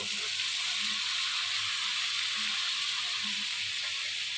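Chopped potato sizzles in hot oil in a pan with fish roe, giving a steady, close, bright frying hiss that runs without a break, with a few low bumps underneath and no one speaking.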